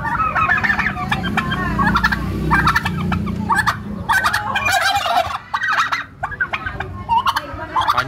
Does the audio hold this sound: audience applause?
no